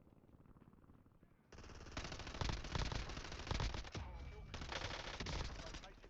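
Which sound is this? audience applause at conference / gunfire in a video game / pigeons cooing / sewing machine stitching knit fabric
gunfire in a video game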